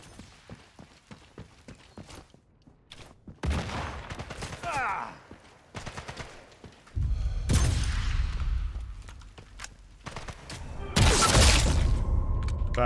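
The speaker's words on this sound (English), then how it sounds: "Achtung, Granate!" In Sniper Elite 5, gunfire crackles in scattered bursts before several heavy booming blasts hit, the loudest near the end, with voices talking between them.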